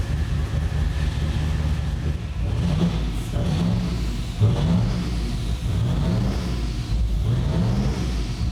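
Turbocharged car with billet turbo parts accelerating hard, a loud engine drone rising and falling through several pulls and gear shifts, with rushing wind noise on top.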